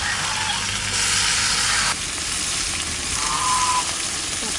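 Chicken pieces frying in hot mustard oil with whole garam masala in a kadai, a loud, close, continuous sizzle that surges and shifts as the meat is added and stirred, with no talking.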